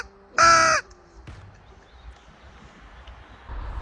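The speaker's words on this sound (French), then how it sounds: "Quand un corbeau arrive" A single loud crow caw rings out near and alone, followed by quiet outdoor ambience in a crop field.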